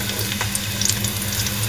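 Two medium onions, finely chopped, frying in hot ghee for beef yakhni pulao, a steady close sizzle and hiss with faint stirring clicks, no talk.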